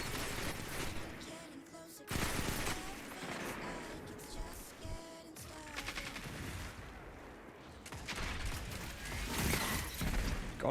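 Dense, chaotic gunfire from Destiny 2 PvP: overlapping shots and bursts with crashes and mechanical clatter filling the whole stretch, loud and continuous with faint voices mixed in.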